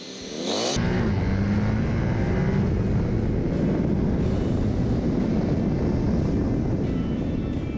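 A BMW R1250GS and a KTM 1290 Super Adventure launch into a roll-on drag race, engines erupting after a brief quiet start into a loud, sustained, rising roar that stays strong to the end.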